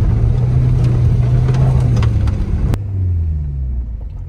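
A Peugeot 406 Safari with an engine fault runs with a deep, loud rumbling idle that abruptly drops off partway through, then a lower, fading drone follows, with no voices.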